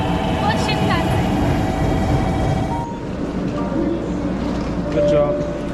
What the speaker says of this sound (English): That's my first bullet train.